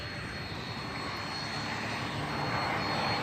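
A hot-rodded biplane with a big custom engine drones at an air show, its propeller engine roaring loud and steady throughout with a slight swell toward the end, no voices over it.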